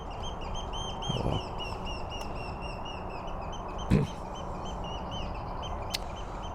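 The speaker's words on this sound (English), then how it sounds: "A widgeon, that's what it is" Wigeon ducks call outdoors at a nature reserve, thin high whistles repeating steadily over soft background noise, with a short spoken exclamation midway.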